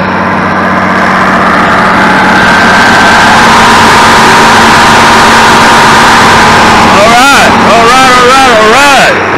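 An International 1586 tractor engine idles loudly and steadily in the foreground, with a voice speaking over it near the end.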